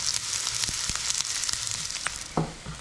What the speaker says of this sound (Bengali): পেঁয়াজটা মোটামুটি লাল লাল হয়ে এসছে, আর একটু জাস্ট ভাজবো